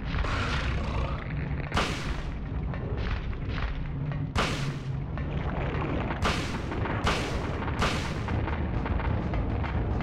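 Gunshots fired at a monster in the Silent Hill video game, a series of loud sharp booming blasts at irregular intervals over a rumbling background, with no talk.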